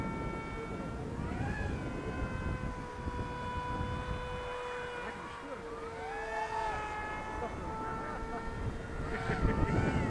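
A Reptile S800 Sky Shadow RC plane's electric motor runs at 90% throttle, a sustained whining drone that rises and bends in pitch as the aircraft passes, heard outdoors over wind noise.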